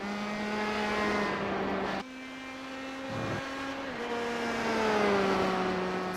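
Open wheel race car engine in a racing video game sprint series at NJMP, a steady high-pitched whine with sliding pitch shifts as gears change, loud and continuous with no talk.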